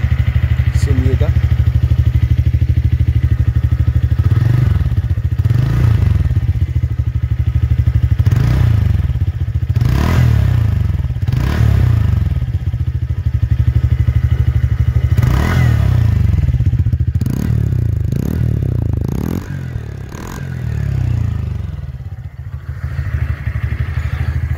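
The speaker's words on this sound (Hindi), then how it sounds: "इसका एग्जॉस्ट साउंड भी काफी बेसी है" TVS Ntorq 2022 Race Edition scooter exhaust, a steady low engine drone with repeated throttle blips and rising revs, close and fairly loud, running with some background clatter.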